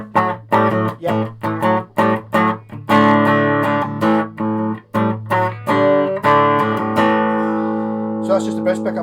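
A BC Rich Mockingbird electric guitar on its bridge pickup plays through a Laney BC15 amp and cabinet, loud picked chords and notes ringing with reverb, ending on a sustained decaying chord.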